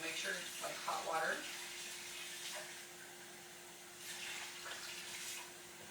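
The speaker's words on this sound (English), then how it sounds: "So kind of let your hot water run a little bit" Hot water runs from a kitchen tap in a steady, moderate hiss while tortilla dough is being made, the flow continuing throughout with a few small clatters and brief voices in the background.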